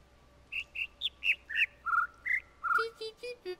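Birdsong in the puzzle video game The Witness: a clear, close sequence of about a dozen short whistled notes at varying pitches, rising and falling, ending with several lower pure tones over a quiet hum.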